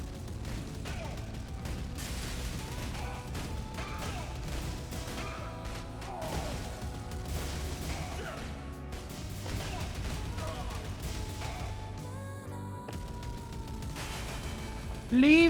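Rapid gunfire and crashing blasts from the video game Neon Inferno on Nintendo Switch 2, dense continuous bursts layered over game music with a sharp loud hit at the end.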